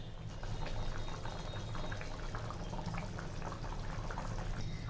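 Mustard hilsa fish curry with roe-filled hilsa simmers in a pan, a steady close bubbling and gentle seething that runs evenly throughout with no voices.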